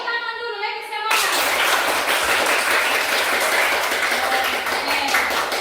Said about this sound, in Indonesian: Tepuk tangan dulu lagi semangat.